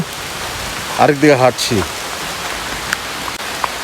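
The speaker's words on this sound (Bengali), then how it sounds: "একদিকে বৃষ্টি" Steady rain hisses throughout a forest at MacRitchie, Singapore, with a few sharp drips, while someone briefly says a short phrase close by.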